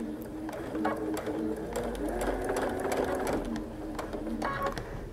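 A sewing machine stitches down fabric binding on a Christmas pot holder, its rapid mechanical whir running steadily with brief pauses and changes in pace, while someone talks over it.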